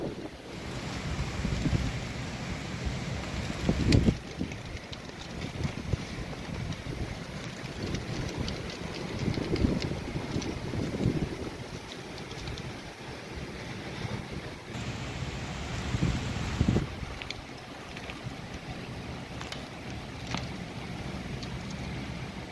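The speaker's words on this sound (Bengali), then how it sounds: "এখানে প্রচুর ঝড় বৃষ্টি স্টার্ট হয়েছে" A storm with heavy rain and wind in Purulia makes a steady, faint roar of wind and rain, with rushing gusts swelling now and then and no voices.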